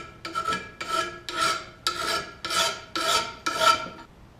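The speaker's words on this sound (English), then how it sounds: "I take a nice little file, smooth those out." A hand file rasps burrs off a blade edge in seven steady back-and-forth strokes, each a close, gritty scrape with a bright metallic edge, in an even rhythm with no talking.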